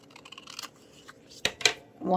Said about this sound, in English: this is why I use the large scissors